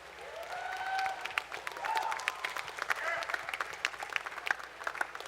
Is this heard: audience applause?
yes